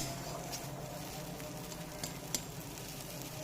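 Chicken gizzards frying in oil in a pan, a steady low crackling sizzle with faint spattering pops and one sharper click near the end, heard alone without talk.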